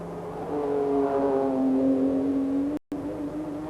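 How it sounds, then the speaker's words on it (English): A turbocharged Group A touring car at the Macau Guia race powers past a slower car, its engine note rising steadily in pitch before a brief dropout, loud and close with no talk. "this is Masahiro Hosseini powering his way past a slower car, almost as though it was standing still"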